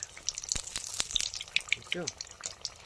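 Potato chops frying in hot oil for a Bengali village-style snack, a steady crackling sizzle with scattered sharp pops, while a voice talks briefly over it.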